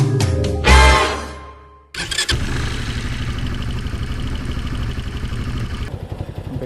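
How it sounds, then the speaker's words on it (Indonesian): Old Yamaha Scorpio motorcycle with a brief burst of revving that dies away, then the engine catches and settles into a steady, clattering idle, loud and close. "mau manasin si ini satu barang ini, Scorpio, motor tua yang asik banget"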